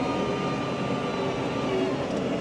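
A tractor engine revs hard and steady while muck spreading with a Teagle Titan 9, a dense continuous drone with a faint higher whine, loud and close throughout.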